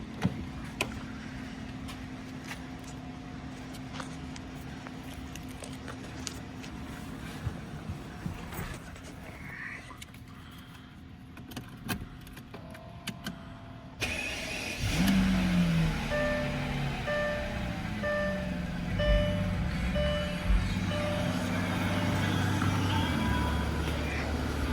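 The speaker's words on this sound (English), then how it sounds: "This is an ice cold engine. Car has not been started, and I'll show you how it starts on a cold start." A 2001 Mercedes-Benz CL600 is cold-started after sitting unstarted. After a quiet stretch of small clicks, the engine cranks and catches with a rising roar, then holds a smooth, steady idle with occasional revs close by.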